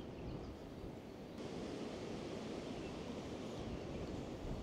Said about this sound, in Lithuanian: Jezu, tai vėjas.